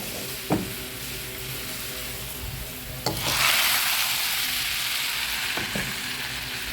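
A hot tempering of fried onion, garlic and dried chili is poured onto cooked lentils for a jute-leaf dal, setting off a sudden loud sizzle that settles into a steady hiss, with a few sharp clinks of a utensil.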